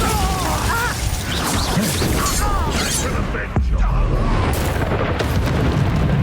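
A Bombarda blasting spell fires in the Hogwarts Legacy video game: one sharp, loud explosive crash bursts out midway through dense, noisy spell combat.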